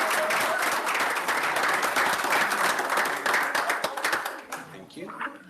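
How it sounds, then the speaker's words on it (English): Applause for award recipients fills a board meeting room, a dense burst of clapping from the audience that tapers off near the end as a voice begins to speak. "One more round of applause for all of our high five."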